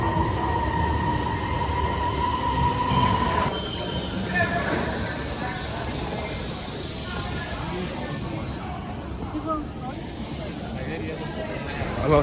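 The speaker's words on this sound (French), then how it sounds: "Le métro est là" Metro train in a Chinese subway station, a steady loud rumble of the train with hiss and a high tone, wheels and carriage noise continuing throughout alongside some faint voices.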